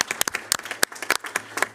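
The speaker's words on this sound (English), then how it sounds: "let's give a round of applause." An audience at a school board business meeting claps in a short burst of applause, sharp individual claps close and uneven, with no talk over it.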